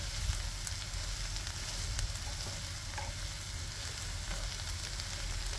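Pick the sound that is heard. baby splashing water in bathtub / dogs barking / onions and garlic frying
onions and garlic frying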